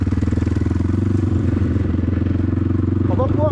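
A BTC T18 motorbike engine rumbling loudly while riding slowly, a close, steady pulsing thrum throughout, with someone speaking over it near the end.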